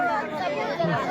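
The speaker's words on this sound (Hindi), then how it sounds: "कितनी तादाद में यहाँ पर भीड़ लगी हुई है।" A large crowd of supporters chatters in a dense, continuous babble of many overlapping voices at a gathering in Sakra, close and steady throughout.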